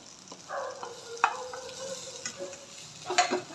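Fried spices and roasted cluster beans (gavar) are stirred in a pan. A soft sizzle runs underneath, broken by a few sharp spatula scrapes and clinks, close and fairly quiet.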